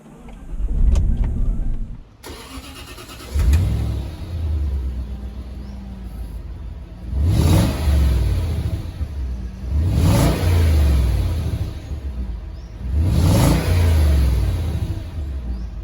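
A Range Rover Sport with a Jaguar 4.2 litre supercharged V8 driving, revving hard in several repeated bursts of acceleration with a deep rumbling engine tone and brief lulls between gear changes, no talk.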